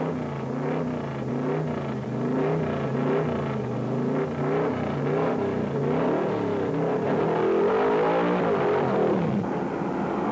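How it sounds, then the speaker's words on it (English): 1968 NASCAR stock car engine pulling into the pits during the Cardinal 500: a loud, sustained roaring V8 rumble with wavering pitch as the car decelerates, close and continuous. "Eddie Royster screams into the pits."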